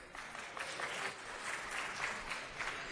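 An audience at a city council meeting applauds in a sustained, moderately distant patter of many hands clapping, steady for the whole three seconds.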